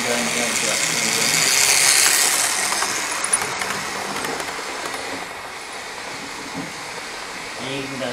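A model railway train runs steadily around a layout, a close continuous rolling and whirring hum with occasional faint clicks, while a voice talks over it.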